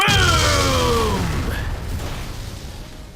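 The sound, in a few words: Pokémon Explosion move, from video game Pokémon Sapphire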